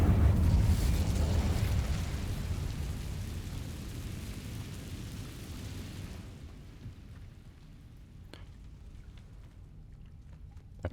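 Incendio fire spell cast in Hogwarts Legacy, a loud roaring burst of flame that swells at the start, then slowly dies away over several seconds into quiet with a few faint clicks.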